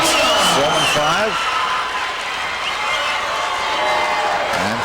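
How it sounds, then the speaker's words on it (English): Kansas fans cheering at a 1998 IHSA girls volleyball championship game, a loud sustained indoor crowd roar with clapping under a commentator talking. "the Kansas fans have something to cheer"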